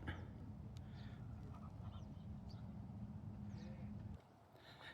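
Large ducks honk and quack faintly at a distance in a park over a low rumbling hum that drops away near the end.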